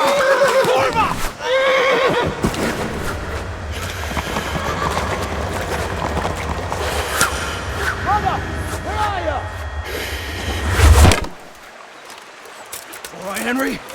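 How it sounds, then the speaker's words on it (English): A horse in the medieval game Kingdom Come: Deliverance whinnies several times near a riverbank, with a few clip-clops, over running water and shouting voices, before the clip falls quiet near the end. "That's the horse!"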